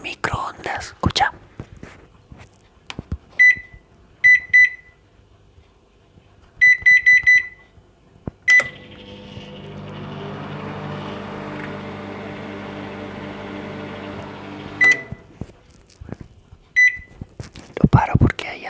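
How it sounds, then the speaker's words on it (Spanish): A microwave oven beeps in short clustered chirps, then hums steadily while running for several seconds before stopping with another beep, with soft whispering and handling noises around it. "Escucha, escucha el ruido del microondas, escucha."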